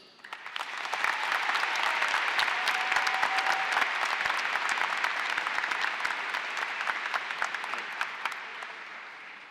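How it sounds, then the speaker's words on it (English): A large audience at a high school graduation claps steadily and loudly for performers and speakers, sustained applause that swells quickly and holds before tapering slightly. "will you please join me in another round of applause for our performers and speakers today?"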